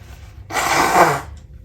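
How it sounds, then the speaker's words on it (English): A person blows their nose into a tissue in one loud, close, breathy burst lasting under a second, with a brief faint snuffle just after it and a quiet room around it. "I'm going to need to blow my nose."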